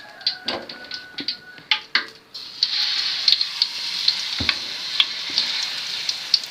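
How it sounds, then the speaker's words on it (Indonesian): Mulberry leaves dipped in batter fry in hot oil as chips, starting with scattered pops and clicks, then a steady close hiss of sizzling broken by sharp crackles and spits throughout. "Kemudian digoreng."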